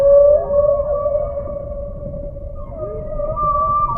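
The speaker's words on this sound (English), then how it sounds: "The whales in different oceans have different songs." A humpback whale sings in the open ocean, its long sustained moaning tones sliding slowly in pitch over low rumbling water noise, loud and continuous.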